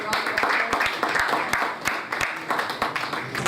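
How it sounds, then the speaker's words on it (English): Scattered audience applause at a conference, a room of separate hand claps with uneven rhythm, moderately loud and close, carrying on steadily for a few seconds. "Let's give a round of applause."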